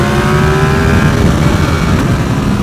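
A motorcycle in third gear accelerates hard, its engine note climbing steadily in a loud, close, continuous rising whine with wind rush underneath.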